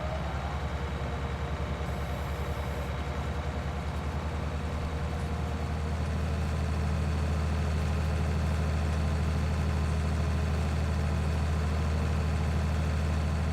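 A tractor engine running steadily with a mower attached in a farming video game, a continuous low droning rumble with constant pitch, loud and alone.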